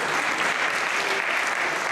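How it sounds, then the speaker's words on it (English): Audience applause for a volunteer at a Teddy Tennis demonstration at the National Tennis Centre, a steady, dense clapping that fills the whole two seconds at even loudness. "Please give a big round of applause."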